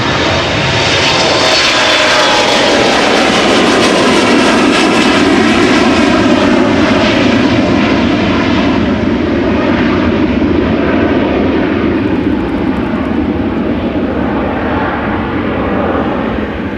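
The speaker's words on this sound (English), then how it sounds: "another Delta A330 in the background, and we have KLM." Jet airliner engines roar loud and close during a departure at Amsterdam Schiphol Airport, a sustained heavy rumble with a slowly shifting tone as the aircraft passes and pulls away.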